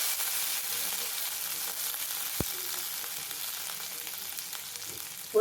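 Chopped ginger fries in hot oil with mustard seeds and cumin, a soft steady sizzle close by, broken by one sharp click and a small clatter at the end.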